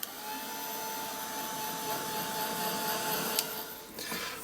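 A heat tool blows steadily and close while drying paint on an art journal page, producing a constant whirring, fan-like hiss with a thin whine that holds for several seconds before a few light knocks near the end.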